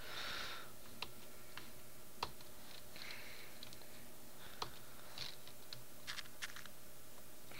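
Someone types on a computer keyboard with scattered, sparse key clicks at an irregular pace, quiet and close against a faint background hiss.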